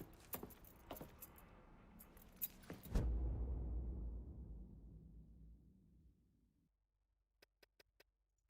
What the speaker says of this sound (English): I grabbed the keys to the truck